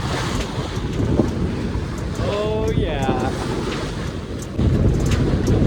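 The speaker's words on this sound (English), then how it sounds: "These are some pretty big waves for the Strait of Georgia." Strong wind buffets the microphone on the bow of a sailboat crossing big waves in the Strait of Georgia, with a constant roar of wind and surging water, splashes building near the end, and a voice speaking briefly midway.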